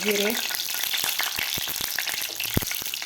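Cumin and mustard seeds fry in hot oil, giving a steady dense sizzle with popping crackles throughout and a few sharper pops, close and alone without speech.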